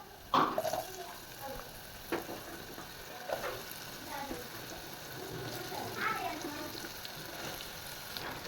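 Sliced ridge gourd tipped into a pan of frying onions and curry leaves, with a few sharp clatters then a soft, steady sizzle and intermittent stirring scrapes, fairly quiet.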